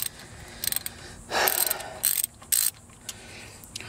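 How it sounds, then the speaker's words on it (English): A ratchet loosens a 14 mm bolt on a Miata power steering pump, giving several short bursts of quick clicking, close and fairly loud, separated by brief pauses. "let's see what happens after we take off that first 14 millimeter bolt"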